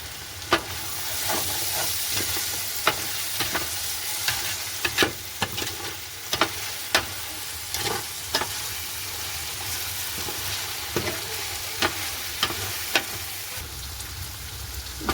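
A chicken biryani mixture sizzles as it fries in a pot while a spoon stirs it, with sharp scraping strokes landing at irregular intervals over a steady hiss.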